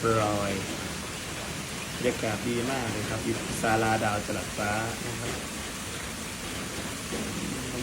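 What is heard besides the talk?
rain falling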